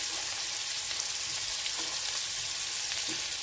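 Chopped onions sautéing in hot oil in a pan, a steady close sizzle and crackle that runs on evenly with faint stirring clinks.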